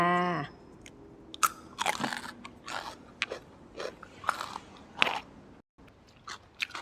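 Close crunchy bites and chewing of sticky rice with bamboo shoot cooked with pork belly and crispy winged beans, irregular bursts of crunching with short pauses and no talking.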